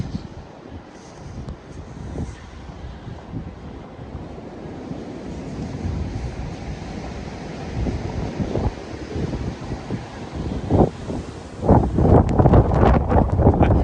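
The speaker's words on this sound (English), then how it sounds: "That was the wind." Strong blizzard wind gusting around a walker on a city street in Regina, a steady roaring rush that swells louder toward the end with heavy buffeting against the microphone.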